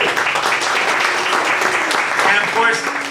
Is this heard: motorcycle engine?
no